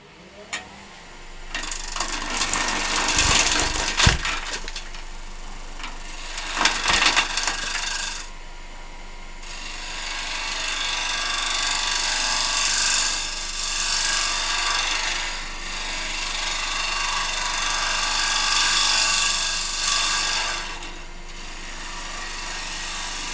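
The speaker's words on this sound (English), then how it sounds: "Pull cut, bowl gouge," A bowl gouge makes a pull cut on a woodturning lathe through wood coated in hot melt glue: loud rough tearing and scraping, a few sharp clattering knocks early on, then a long continuous rasping cut with a steady hum underneath.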